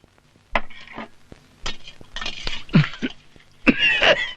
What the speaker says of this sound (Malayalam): ഈ ചുമ എപ്പോഴും ഉണ്ട്.